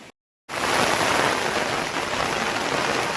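Heavy rain pours down in Konkan in a steady, dense hiss after a brief moment of silence at the start, loud and continuous.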